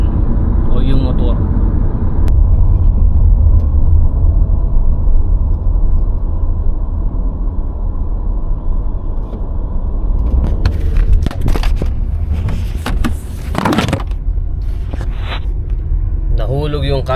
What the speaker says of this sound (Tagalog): paandarin natin yung sasakyan o yung motor